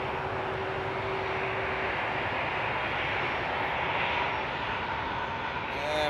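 Airbus A330-900neo airliner at Frankfurt Airport on a winter morning, a steady broadband engine roar that swells slightly and holds loud throughout, with no talk over it.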